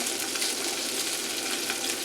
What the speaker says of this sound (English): drop it in the frying pan